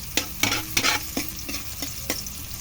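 Aromatics sautéing in a pan, stirred with a utensil: a steady close sizzle broken by about seven sharp scraping strokes at an uneven rhythm, with no voices.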